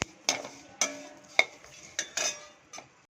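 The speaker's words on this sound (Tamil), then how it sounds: "இதெல்லாம் ட்ரை ரோஸ்ட் பண்ணணும்." Sesame seeds and dried copra coconut dry-roasting in a pan, stirred with a utensil that clinks and scrapes against the metal in about six sharp, evenly spaced strokes, with no talking.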